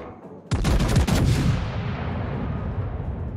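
A battleship's main guns fire a single loud, close salvo in the naval game World of Warships, aboard the Preussen. The sharp blast rolls off into a long, slowly fading rumble.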